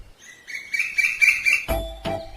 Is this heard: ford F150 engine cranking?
no